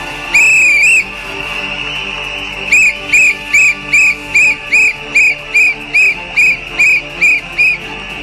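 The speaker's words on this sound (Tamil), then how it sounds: "எல்லாருக்கும் விசில் அடிக்க தெரியுமில்லங்க" Sharp whistles at a fan gathering, opening with one long blast and then about a dozen short, evenly spaced toots at a steady rhythm, loud and close, with no talk over them.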